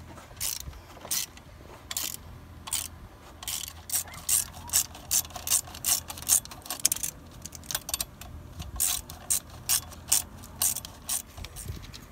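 Hand ratchet retightening bolts on a Ram 1500 engine near the EGR tube, making repeated quick clicking bursts in a steady rhythm, close and fairly quiet.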